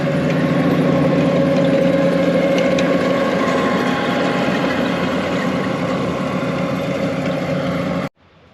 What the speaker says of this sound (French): Elle baisse le relevage, l'herse rotative se remet en route.